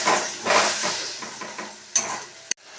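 Masala gravy for an egg and potato dish sizzles in a pan while being stir-fried, with rhythmic stirring scrapes over the hiss and a sharp metallic clank near the end.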